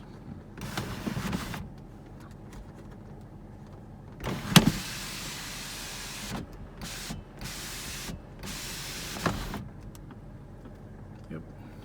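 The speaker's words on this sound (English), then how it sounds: "And then you got this sunroof, which actually works." The electric sunroof motor of a 2005 Cadillac STS whirs in several separate bursts inside the cabin, a steady mechanical drone that starts and stops with short pauses and a faint knock between runs.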